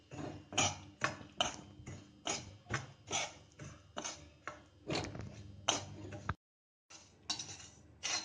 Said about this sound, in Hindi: इसको हमने सिम गैस पर भूनना है थोड़ी देर